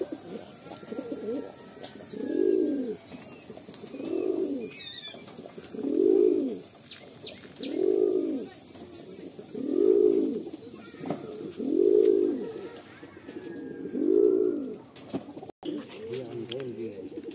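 Pigeons in a loft at Baruipur cooing in a steady series of about seven rhythmic, low throaty coos spaced roughly two seconds apart, fairly close, with faint chirps and a brief flutter of wings near the end.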